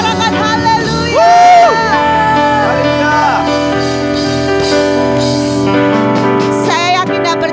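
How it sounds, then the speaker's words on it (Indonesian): A church congregation at a worship service shouts and cheers in praise, a loud swell of many voices rising over sustained music with tonal, sung-sounding cries throughout. "Mari sama-sama lebih lagi sorakan haleluya."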